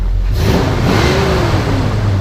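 A 1976 Chevy C20 pickup's 350 V8 revs up loudly nearby through Flowmaster true dual exhaust, its roar rising and falling in pitch over a deep rumbling exhaust.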